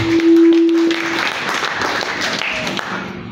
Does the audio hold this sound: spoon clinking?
no